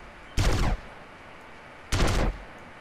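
Two short bursts of gunfire sound in GTA San Andreas Multiplayer, each lasting under half a second and spaced about a second and a half apart. They are loud and close against a quiet background.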